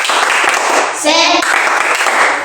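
Classroom group doing a rhythmic spirit clap, dense clapping with a voice chanting over it partway through, loud and close.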